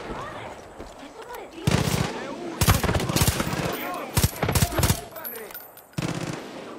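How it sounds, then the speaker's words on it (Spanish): Rapid bursts of video-game gunfire from Far Cry, loud and close, with sharp volleys clustered in the middle and end of the stretch and quieter background ambience between them. "¡Están disparando! Far Cry."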